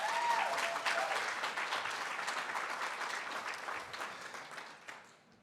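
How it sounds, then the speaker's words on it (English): Audience applause at a small business summit, a dense wash of many hands clapping that starts full and loud, then thins and fades out over about five seconds. "Let's give her another round of applause"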